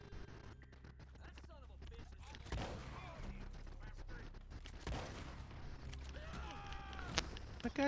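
Gunfire in the Red Dead Redemption 2 western video game, a few sharp shots amid clattering action, hoofbeats and game sounds, with a voice talking over part of the scene.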